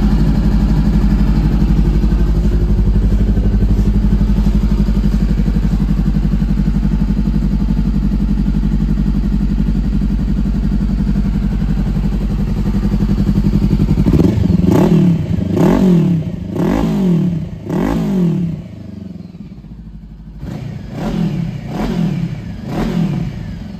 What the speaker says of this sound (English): Sounds really nice, the Leo Vince can on it.